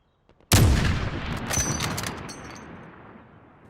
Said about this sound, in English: The distant gunshot followed by the actual gunshot. The reload. And the shells falling down.